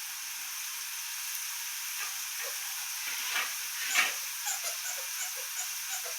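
Egg masala frying in oil in a pan, a continuous soft sizzling hiss with a few brief stirring scrapes partway through, close and unaccompanied by talk.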